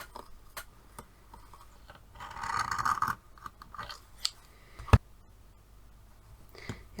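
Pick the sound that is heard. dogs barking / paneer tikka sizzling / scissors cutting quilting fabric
scissors cutting quilting fabric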